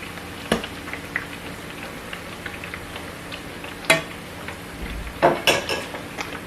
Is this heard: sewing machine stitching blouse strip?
no